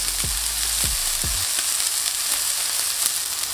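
Sirloin steak sears in a hot pan with a steady, loud sizzle, while three heavy low thumps from the meat being handled land in the first second and a half.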